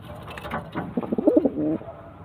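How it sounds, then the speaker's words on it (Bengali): Pigeons coo close by in soft, throaty bursts, a rolling series ending in a longer low note. "খুব সুন্দর পায়রা"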